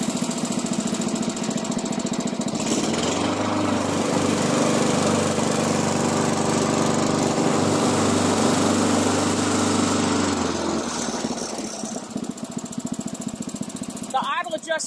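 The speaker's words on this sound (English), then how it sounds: "This mower runs great, idles down real nice and low." A Honda HRC216 commercial walk-behind lawn mower engine runs loud and close, dropping into a steady low idle for several seconds before revving back up, with a person talking over it.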